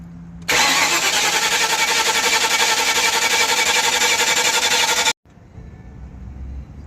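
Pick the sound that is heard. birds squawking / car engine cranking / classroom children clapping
car engine cranking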